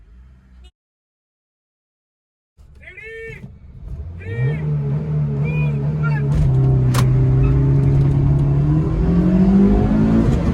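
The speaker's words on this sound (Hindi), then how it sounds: "तो भाई इनिशियल में अपनी सिटी निकल गई है और भाई की कोरोला एल्टिस बहुत पीछे रह गई है।" A Honda City and a Corolla Altis accelerate hard in a drag race with air conditioning off, engines rising from near silence into a loud, steadily climbing roar, with someone talking over them at first.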